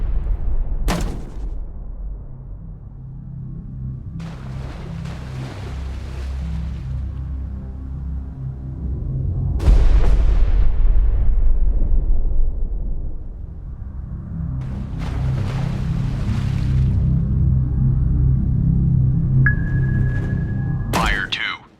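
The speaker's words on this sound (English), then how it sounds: "Ready depth charges." Depth charges detonating underwater in the naval combat game Destroyer: The U-Boat Hunter, several deep rumbling booms spaced apart and each rolling out for seconds, with a sonar ping near the end.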